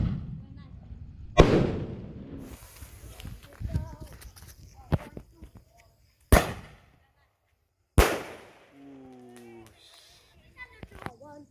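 Firecrackers and Roman candle fireworks set off outdoors for an Eid al-Fitr celebration, giving four sharp, loud bangs spread over several seconds, with voices talking between the blasts and a short tonal whistle near the end.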